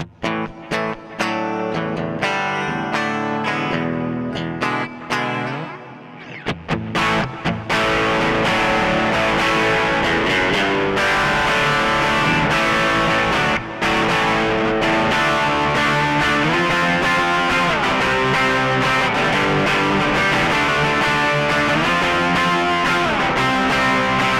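A distorted electric guitar, played on the bridge pickup with the tone rolled off slightly, plays chords and riffs through a gritty Compulsive Drive overdrive on a Line 6 HX Effects unit with reverb, loud and sustained, with a brief quieter picked passage at the start.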